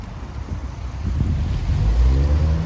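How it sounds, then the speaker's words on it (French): A scooter with a loud, raspy aftermarket exhaust revs and rises in pitch nearby on a Paris street, droning and growing louder over a few seconds. "Il a un scooter, il a mis un pot d'échappement d'avion."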